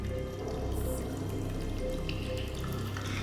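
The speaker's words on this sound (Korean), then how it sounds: "어디에서 물소리가 들리는 거예요" Tap water runs steadily into a washroom sink in an abandoned school in Busan, a continuous close rushing and splashing that holds at an even level throughout with no voices.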